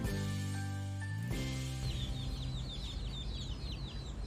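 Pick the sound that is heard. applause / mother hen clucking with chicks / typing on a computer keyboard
mother hen clucking with chicks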